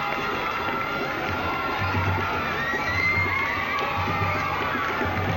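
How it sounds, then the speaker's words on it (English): Supporters cheer from the roadside as members of parliament walk down Duke Street to the ceremonial opening of Parliament, a steady crowd roar with shouts and scattered applause throughout. "all making their way down Duke Street to cheers and applause as their supporters have come up"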